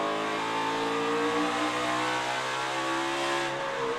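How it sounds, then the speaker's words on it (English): NASCAR stock cars roar around a short track, a loud sustained engine drone with rising harmonic pitch as the cars power past, steady and close without talk. "Coming around to complete lap 100. Kyle Busch powers around to his 5th stage win of 2019."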